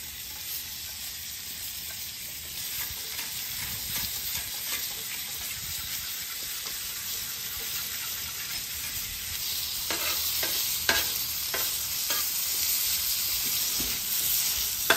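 Butter and seasoned flour frying on a Weber griddle while pork chops are made country-fried style, with a steady broad sizzle throughout and sharper scraping or stirring ticks toward the end, nearby and without talk.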